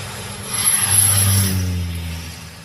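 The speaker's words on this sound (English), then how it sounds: "In the high season, dozens of planes land every day." A plane comes in to land at an airstrip in the Masai Mara, its engine drone swelling to a loud peak at mid-clip before fading away, with a faint high whine on top.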